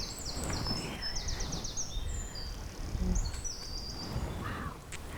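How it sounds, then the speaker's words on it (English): Chiffchaff and greenfinch song outdoors among wildflowers and insects, a steady chorus of repeated bright chirps and trills at moderate distance over a constant low outdoor background. "we've heard so much bird song"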